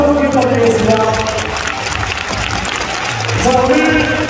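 An audience at a volleyball all-star fan event applauds the players, with a broad wash of clapping and crowd noise while a voice carries over it at the start and end.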